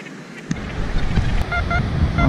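A Deus XP metal detector on a Belgian beach gives a few short, tonal beeps in the second half, partly buried under loud surf and gusting wind noise.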